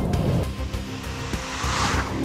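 A 2013 Ford Focus ST hot hatch driving at speed, with a steady engine drone mixed with road and tire noise throughout, loud and close, with no voices.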